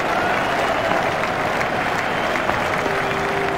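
A large crowd applauds and cheers in a continuous, dense roar in the video game EA Cricket 2007, steady and loud throughout with no gaps.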